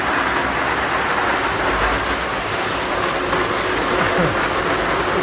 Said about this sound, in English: The rain is coming down again